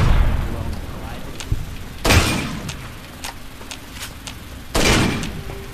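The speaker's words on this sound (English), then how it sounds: "Who the hell is shooting me?" Gunshots in the PC game Fallout: New Vegas, with two loud bursts of fire standing out between softer scattered shots and clatter over a dull in-game background.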